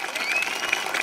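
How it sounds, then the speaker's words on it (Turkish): An outdoor crowd at the Uzunyayla Circassian culture festival applauds briefly in a dense patter, with faint whistles mixed in and cheering around it. "Ama böyle coşkulu bir alkışla."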